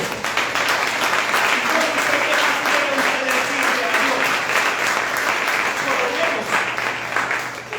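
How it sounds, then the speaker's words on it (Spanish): Church congregation applauding steadily and loudly throughout, a dense wash of clapping that holds at an even level for the full length with no pauses. "Denle un aplauso."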